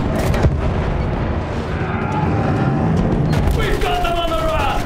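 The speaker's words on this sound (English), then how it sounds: "Use that machine gun! Mow them down!" Rapid machine gun fire and battlefield blasts from the World War I shooter Battlefield 1, loud and dense throughout, with shouted voices and chaotic combat noise layered over the shooting.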